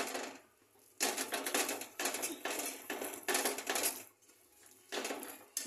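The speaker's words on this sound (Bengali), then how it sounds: "আমাকে বেসনটা এইভাবে আমি মিক্স করব" Besan (gram flour) being mixed in a pot, heard as bursts of close scraping and tapping of a utensil against the pot, in rhythmic stretches broken by short pauses, with no talking.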